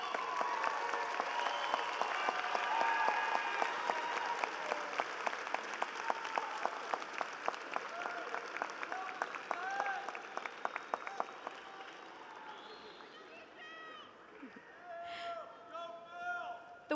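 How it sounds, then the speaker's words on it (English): Graduates at a UCLA political science commencement in a hall applaud their friends and family: dense, sustained crowd clapping with some voices mixed in, holding steady before thinning and tapering toward the end. "give a round of applause to all of your friends and family members in this hall who helped you earn your degree"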